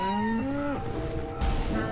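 A bull in a Looney Tunes video game lets out a long, loud, drawn-out moo that falls in pitch, followed by thumping game impact sounds, with no talk.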